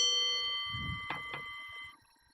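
A bright notification bell chimes with sustained ringing tones and two quick, clear strikes in the middle, then fades to quiet.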